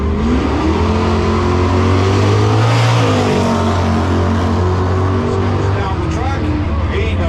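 A 1960s Chrysler-powered 1964 drag car makes a full pass down the strip, its engine roaring loud and close with a rising rev sweep and shifting pitch as it accelerates, while people talk over it.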